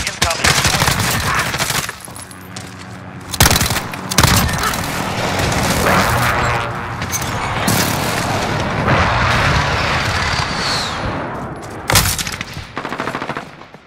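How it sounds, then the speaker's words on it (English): Video game airstrike blasts and heavy gunfire roar loud and dense, with sharp bursts and booms layered over continuous rumbling combat, and a brief voice cue amid the chaos. "Allied precision airstrike incoming."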